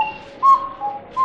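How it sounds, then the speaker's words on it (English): A pair of small cuckoo clock whistles sounds a cuckoo call, with a few short, clear whistled tones in a loose rhythm, close and fairly loud, no voices. "I can imitate the sound of a cuckoo bird with the help of two whistles"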